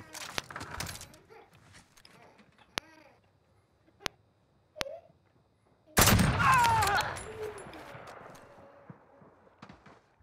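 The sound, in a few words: gunfire from video game Call of Duty: Modern Warfare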